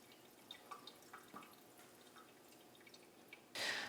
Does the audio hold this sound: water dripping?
yes